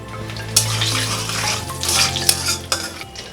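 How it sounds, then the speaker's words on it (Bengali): Whole spices tempering in hot oil for Bengali boal fish curry: cardamom, two cloves, cinnamon, cumin and bay leaf. A loud close sizzle flares and fades, with a few sharp clinks and crackles and no voices. "এখানে ফোড়ন দিচ্ছি, একটা এলাচ, 2টো লবঙ্গ আর একটু দারচিনি, সামান্য একটু জিরে দিয়ে দিচ্ছি,"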